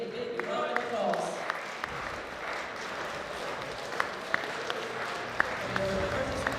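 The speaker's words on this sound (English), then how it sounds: "Give them a big round of applause." Audience applause at a European sub-junior and junior powerlifting championship ceremony, a broad steady wash of clapping from a crowd in a large hall, with talk over it and a few sharper claps standing out.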